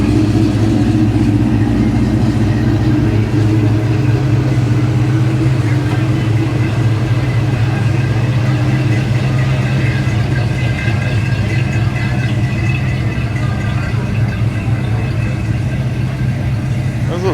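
Classic cars idle and cruise past at the Chino Corn Feed Run car show, a continuous mix of rumbling engines close by with a busy outdoor crowd in the background.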